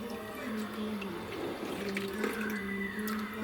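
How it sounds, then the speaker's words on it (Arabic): Clean water runs steadily from a tap into a cooking pot, a continuous close splashing and filling rush lasting the whole stretch. "وتحط لها بقى ميه نضيفه كده"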